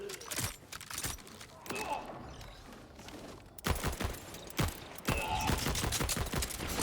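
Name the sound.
gunfire from a weapon in Borderlands 4 video game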